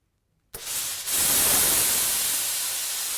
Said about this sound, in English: If you love a steam iron,